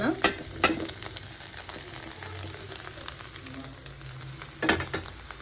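Egg and rice stir-fried in a pan give a continuous sizzle, punctuated by sharp spatula scrapes and knocks at the start and again near the end.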